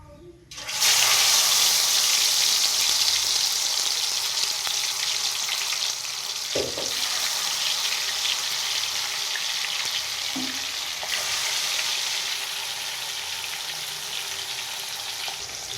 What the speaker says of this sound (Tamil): மீன் நல்லா பொரிஞ்சு வந்துகிட்டு இருக்குது.